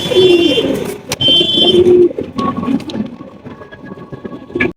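Pigeons cooing at a pigeon market, loud close throaty coos in overlapping bursts with a busy crowded background and a few sharp knocks.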